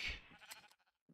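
A sheep bleats once in the Minecraft video game, a brief, clear, nasal cry followed by a few faint, soft after-sounds.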